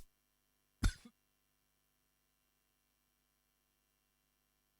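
A presenter coughs once, a short sharp burst close to the microphone, set against near silence for the rest of the stretch.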